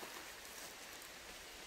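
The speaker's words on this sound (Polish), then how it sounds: "O, tu sobie płynie rzeczka." A small stream runs through a ravine near a lake, a faint, steady broadband wash of flowing water with no talk over it.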